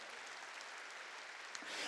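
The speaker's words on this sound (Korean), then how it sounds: "박수로 하나님께 영광 돌리고" A church congregation applauding to give glory to God during a worship sermon, a soft, distant wash of many hands clapping steadily, swelling a little at the end.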